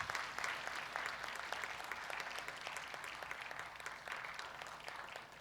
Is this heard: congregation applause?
yes